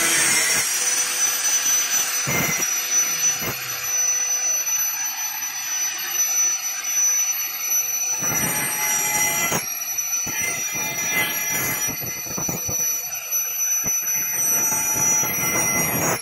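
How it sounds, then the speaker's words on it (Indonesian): Angle grinder cutting a round disc to serve as a weight for a PVC pipe, with a loud, steady high-pitched whine and rough bursts of grinding noise that come and go, and no talk. "Saat menggunakan peralatan mesin khususnya gerinda tetap hati-hati ya teman-teman, karena ini putarannya tinggi termasuk gerinda ini ya"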